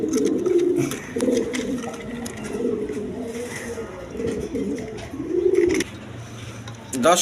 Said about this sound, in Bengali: এক পেয়ার মাল্টেস কবুতর আছে